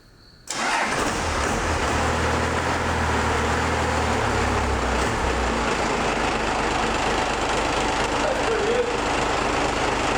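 A Cummins diesel swapped into a Chevy Silverado cranks and fires up after sitting overnight, catching quickly and settling into a loud, steady, close-up idle with a gruff rumble that runs unbroken to the end.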